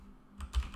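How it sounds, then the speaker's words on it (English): A loud computer keyboard clacks a couple of times, two sharp close keystrokes over quiet room tone. "Sorry for my keyboard, it's too loud."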